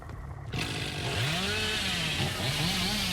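Hillbilly's chainsaw in Dead by Daylight revs up loud and close, a harsh buzzing engine roar that rises and wavers in pitch over a few seconds, with no talking.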